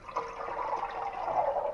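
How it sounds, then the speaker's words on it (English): Water dumped into a cooking pot for gluten-free macaroni, a continuous gushing pour that fills the short moment at steady strength, with no talking. "we're going to dump the water in there"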